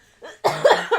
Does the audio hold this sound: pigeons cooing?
no